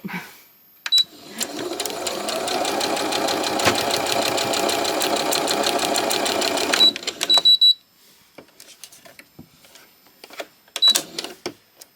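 A sewing machine runs steadily for about six seconds, stitching wavy lines through scrap fabric for a small seascape quilt, then stops, followed by a few brief mechanical clicks and a short final burst.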